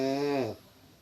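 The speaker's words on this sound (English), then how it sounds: "Wait, what is that? Is that her snoring?" A woman snores loudly in a camp setting, one long rasping inhale that cuts off and fades into quiet background.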